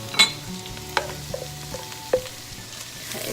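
Finely chopped potatoes tumble into a pot of split pea soup with onion and carrots, a few soft knocks and clatters followed by quiet stirring and faint sizzling.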